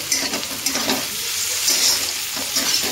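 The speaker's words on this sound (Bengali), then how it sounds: "তো টমেটোগুলো দিয়ে দিলাম, আর এবার হালকাভাবে আবার নাড়তে থাকবো।" Tomatoes, onion and capsicum fry and sizzle in a pan for chilli chicken as a spatula stirs them gently, a steady close hiss broken by soft scraping strokes.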